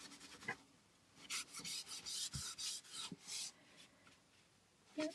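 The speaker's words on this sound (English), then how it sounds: "we're just going to rub that on there" A wet wipe loaded with paint is rubbed over a primitive wooden Easter bunny craft, giving bursts of close, soft rasping strokes in an irregular rhythm with short pauses between them.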